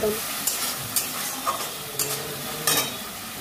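Spices with red chilli powder, turmeric and grated tomato fry in oil while a spoon stirs them. A steady close sizzle runs throughout, with several sharp scraping strokes against the pan.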